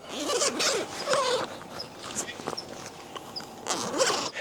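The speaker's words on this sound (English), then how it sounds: "you can start to unzip the tent" A rooftop tent zipper is drawn open in several long pulls with short pauses, close by, with faint rustling of fabric around it.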